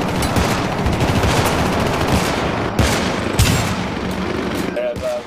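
Continuous automatic and rapid gunfire from the co-op shooter game Syndicate, loud and dense with sharp bursts throughout, with players talking over the shooting.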